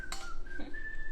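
A person whistles a thin, steady, wavering melody in a kitchen while drizzling syrup over Egyptian baklava, faint clinks of dishes underneath and no talking.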